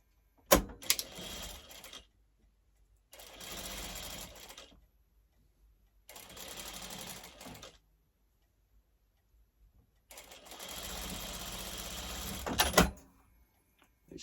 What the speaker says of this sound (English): I'm going to put them together and sew it across the top there.